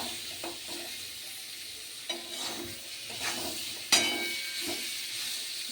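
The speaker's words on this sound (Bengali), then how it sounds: "এটাকে এবার একটু ভেজে নিলাম একদম মনে হয় যেন পুরো তেল দিয়ে যেরকম হবে" Ingredients for khichuri frying in oil in a pot on a rainy day, a steady soft sizzle with occasional scraping stirs and a sharper clink near the end, close and moderately quiet with no talking.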